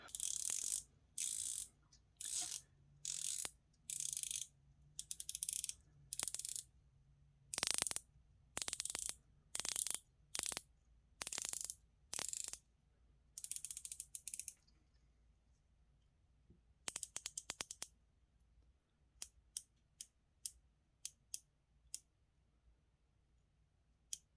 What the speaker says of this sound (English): let's look at the bezel